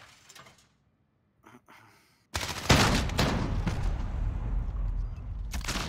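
Gunfire in a shooter video game: after near silence with a few soft clicks, loud sustained volleys of shots erupt and continue densely to the end.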